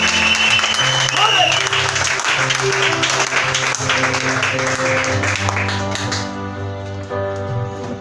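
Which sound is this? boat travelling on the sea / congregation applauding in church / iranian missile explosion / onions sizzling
congregation applauding in church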